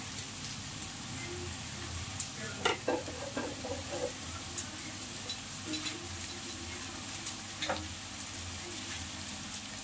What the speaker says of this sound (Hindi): अब इसमें हम जीरा ऐड करेंगे कटहल की सब्जी में।